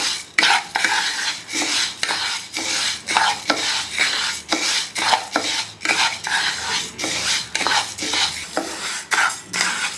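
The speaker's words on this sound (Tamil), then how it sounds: "இது கோல்டன் வர வரைக்கும் நல்லா வறுக்கணும்" Black urad dal is dry-roasted in a pan and stirred with a metal spoon, giving a steady run of close scraping strokes and a rattle of grains against the metal, with a faint sizzle underneath.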